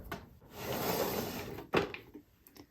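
A makeup storage drawer slides open with a soft, sustained rolling scrape, then stops with a sharp bump, followed by a few small light knocks nearby in a quiet room.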